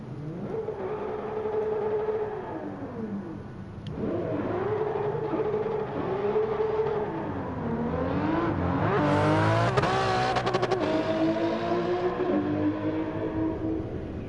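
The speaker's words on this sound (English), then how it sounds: "that's probably the most quiet 2JZ of all time" A Toyota Supra with a 2JZ engine in Gran Turismo 7 hums and revs steadily, its pitch rising and falling through gear changes and climbing to a harder, brighter rev near the end, unbroken and without talk.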